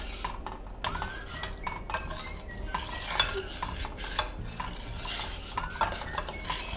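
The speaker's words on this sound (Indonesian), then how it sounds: "Kita aduk terus hingga tidak menggumpal" Coconut milk batter for tajin sobih being stirred in a pot, a spoon scraping and knocking steadily over faint simmering, close and moderately quiet.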